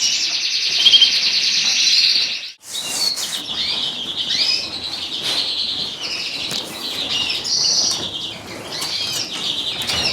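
Pet birds in an indoor bird room, including canaries, chirp and tweet continuously with a burst of loud wing flapping near the start, then steady overlapping calls close by.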